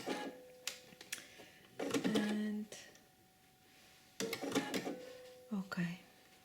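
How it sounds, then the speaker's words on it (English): Sewing machine with differential feed stitching an exposed zipper with facing and gusset, in short motor bursts of a second or so, separated by pauses and clicks, with a person talking in between. "I'm going to just start stitching now"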